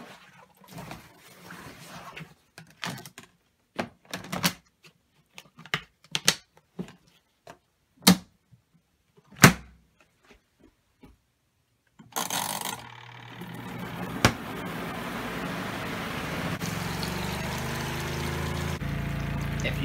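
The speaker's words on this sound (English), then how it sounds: "Here's the dryer in action one more time." A cheap portable washer's spin dryer, in a tiny house, apartment or RV setting, starts up after a run of scattered clicks and knocks, then settles into a steady whirring hum with water rushing out.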